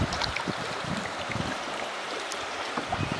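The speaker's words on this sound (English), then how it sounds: "Ripples in the water." Creek water rippling and lapping around a kayak, soft continuous trickling with small splashes and paddle drips, fairly close and steady with no talking.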